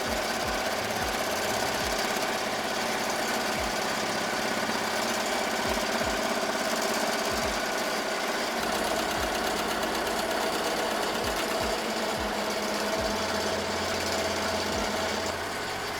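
An embroidery machine stitches letters onto a shirt with a stabilizer sheet laid on top, a steady close mechanical whir with rapid needle thumps running throughout, no talk.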